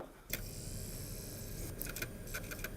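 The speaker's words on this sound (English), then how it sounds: "we got grinding, we got clicking, we got the whole works here on this disk drive" Xbox 360 disc drive grinding and clicking, with a continuous low whirring grind and a series of sharp mechanical clicks and ticks near the end, close and moderately quiet with no talk.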